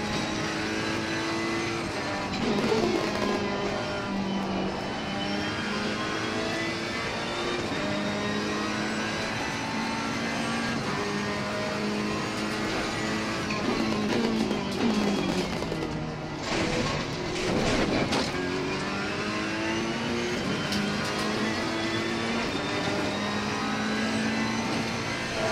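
A Ferrari 488 GT3 race car in Assetto Corsa Competizione is heard from the cockpit, its engine howling continuously as revs climb and fall through gear changes, with other cars droning nearby.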